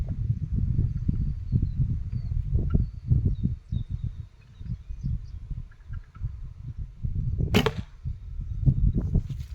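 A single arrow from a recurve bow strikes the target with one sharp impact partway through, set against a steady low rumble of outdoor background noise.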